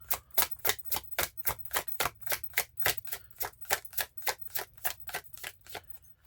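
Tarot cards are shuffled in a quick, even rhythm of about twenty crisp riffling snaps, faint and close, with no talk.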